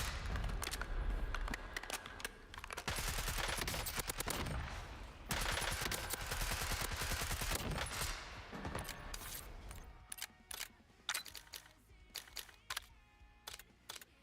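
Gunfire from a slow-firing gun shot down range in Warzone, a steady stream of loud shots for several seconds followed by sparser, separate single reports as firing trails off.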